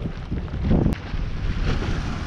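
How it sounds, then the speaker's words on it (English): Wind blows hard across a trail at the water's edge at DeSoto National Memorial near Bradenton, Florida, a constant rough rumble and roar against the microphone with no voices. "as soon as I hit this corner of the trail, the wind has picked up"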